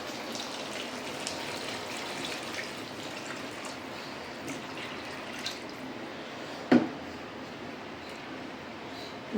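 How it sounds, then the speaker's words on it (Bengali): Paneer soaking water is poured into a curry pan in a home kitchen, making a steady, soft splashing wash with one sharper drip-like splash near the end. "এবার দেব এই পনির ভেজানো জলটা।"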